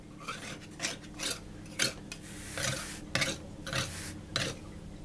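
A knife trims excess pastry from a lemon tart, making a series of soft scraping rasps in an uneven rhythm, about a dozen strokes, close and fairly quiet with no speech.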